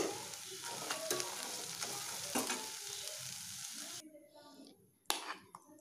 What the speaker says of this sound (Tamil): இப்போ வெங்காயம் நல்லா வதங்கியிருக்கு